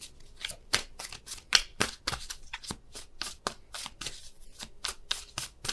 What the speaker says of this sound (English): There's still a ton of cards coming out.